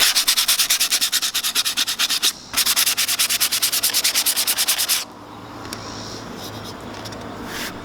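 Wood is sanded by hand with coarse sandpaper in steady, fast back-and-forth rasping strokes, loud and close, with a brief pause midway. The strokes stop and a quiet rustle and faint scuffs follow.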